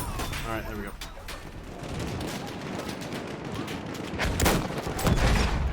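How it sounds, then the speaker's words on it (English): Dense, chaotic gunfire and heavy explosions as rocket guns bombard a hill in the Battlefield 1 video game, a constant loud barrage with booming blasts swelling toward the end. "They're using rocket guns to bombard this hill."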